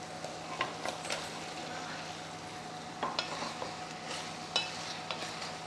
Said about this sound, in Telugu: ఇప్పుడు వేస్తున్నాను నేను మష్రూమ్స్.